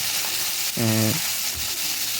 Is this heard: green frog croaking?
no